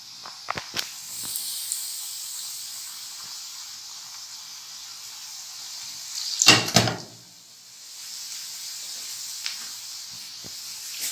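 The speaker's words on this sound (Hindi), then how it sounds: "हल्की आंच पे फ्राई करना है हमने ताकि ये अंदर तक अच्छे से फ्राई हो जाए" Sweet cheese balls fry in oil over low heat with a soft, steady hiss close by. One brief louder sizzling flare-up sits in the middle, along with a few faint knocks; no one talks.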